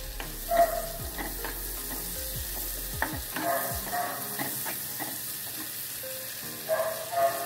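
Garlic and onion sizzle in a pan for vegetable crispy roll stuffing, with repeated scrapes and stirring strokes of a utensil over a steady frying hiss, close and fairly loud, no talking.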